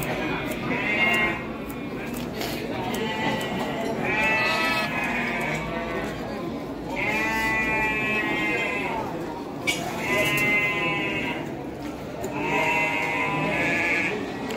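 Garut sheep bleat repeatedly at a livestock market, several loud wavering calls in a steady series over a busy crowd, with people talking throughout.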